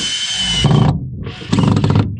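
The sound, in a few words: power drill drilling corners of wood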